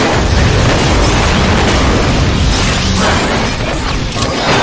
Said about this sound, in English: Did you see that Evo explode?